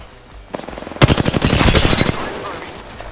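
Rapid automatic gunfire erupts loudly in Apex Legends, a dense burst of shots after a quieter lead-in, trailing off toward the end with some speech-like sound underneath.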